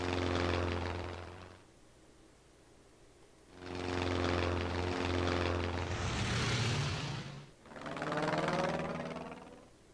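Enemy warplanes in an air-combat video game drone with a loud propeller-engine roar that swells, fades, then surges again, a sharp whooshing rush passing mid-way before the engines return.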